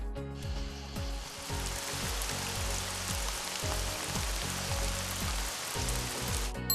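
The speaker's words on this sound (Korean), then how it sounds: "빗소리," Steady rain hiss of the kind played as white noise, a dense, even patter filling the whole stretch, with soft rhythmic low tones pulsing faintly underneath.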